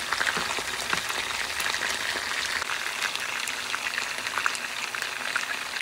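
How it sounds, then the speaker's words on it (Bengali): Chicken meatballs fry in oil in a frying pan with a steady, dense crackle and fine spattering pops, close and continuous with no voices. "চিকেনের বলগুলোকে আমি ইচ সাইডে 5 মিনিটস করে ভেজে নিব, গোল্ডেন ব্রাউন হওয়া পর্যন্ত"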